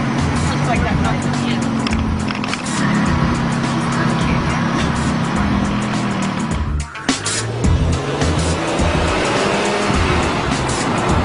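A car at roughly 140 miles per hour fills the cabin with a constant loud roar of engine and road noise, briefly dipping midway, while people talk throughout.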